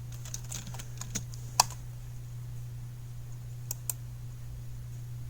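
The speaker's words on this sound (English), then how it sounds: "If I can type." Light, sparse keystrokes on a computer keyboard, a few scattered clicks with one sharper tap, faint and close over a steady low electrical hum.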